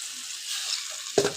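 Okra and potato sautéing with spices, sugar and tomato paste in a pan give a steady soft sizzle, with a brief louder scrape or stir near the end.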